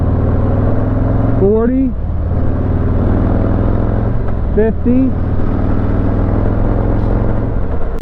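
A motorcycle cruises at speed, picked up by a microphone in a half helmet near the ear pad: a steady engine drone with wind rush, as a voice briefly calls out numbers twice.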